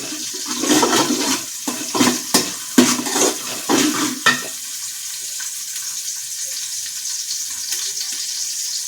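Curry leaves, onion and green chillies fry in a pan of oil for a festival dish, with a close hiss and several quick scraping stirs early on, then an even sizzle alone.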